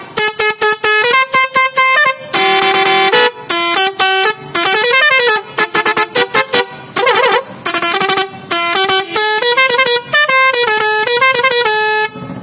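Loud air horn combination mounted on a bicycle, blaring a rapid series of multi-tone musical honks in bursts and melodic runs, close and continuous with brief gaps.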